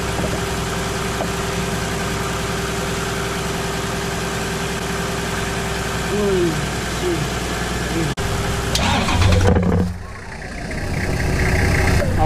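Diesel engine of a truck cranking after the glow plugs warm up, idling with a steady low rumble, then catching and revving louder near the end, with people talking nearby.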